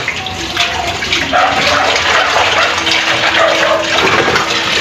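Dishes being washed at a kitchen sink under a running tap, with a steady rush of water, splashing and faint clinks throughout, and no talking.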